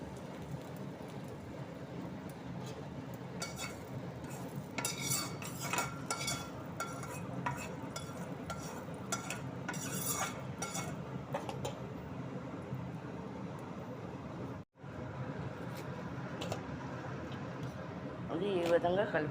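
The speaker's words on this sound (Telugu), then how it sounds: "అది ఈ విధంగా కలుపుకోవాలన్నమాట తాలింపు వేసిన తర్వాత" A spoon stirs and scrapes through rice mixed with tempering for citron-tamarind pulihora, producing irregular clinks and scraping strokes over a continuous low background, with a voice talking at times.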